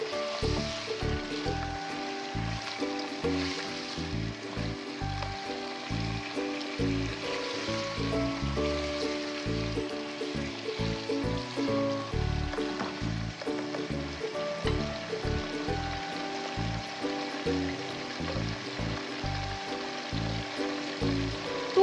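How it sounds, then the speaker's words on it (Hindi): Chicken pieces fry on high heat in a pan for aloo gosht, giving a steady, continuous sizzle at moderate loudness with tonal background music running underneath. "चिकन को हम तेज़ आंच पे भून लेंगे, इसका कलर चेंज हो जाएगा।"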